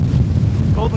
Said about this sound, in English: Alright, it's super windy now. Is it windy on your side? Can you guys hear the wind?